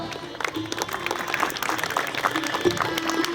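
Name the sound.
audience applause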